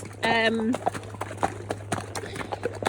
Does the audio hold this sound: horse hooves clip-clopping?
yes